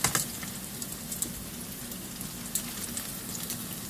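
Beer-batter onion rings fry in a pan of oil, a steady close sizzle with dense crackling and occasional sharper pops throughout.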